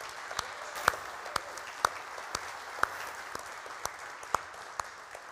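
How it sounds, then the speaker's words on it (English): A church congregation applauds during a worship service, the applause faint and distant, with a few sharper individual claps standing out at a fairly steady pace over a soft, continuous patter. "I think they all deserve another round of applause."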